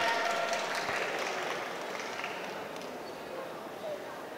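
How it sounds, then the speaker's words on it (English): Crowd at a terrier group dog show applauding, a broad steady wash of clapping in a large hall that slowly fades, with a voice faintly audible beneath it. "you are free to clap to celebrate the wins of these dogs and their owners"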